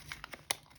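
Paper being creased and folded by hand for an origami fighter jet, a few quick crinkling rustles with a sharper crackle near the end, faint and close, no talk.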